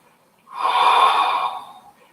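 Close, steady breath during a hip flexor stretch: one long, audible exhale of about a second and a half, breathy and unvoiced, with no talking over it.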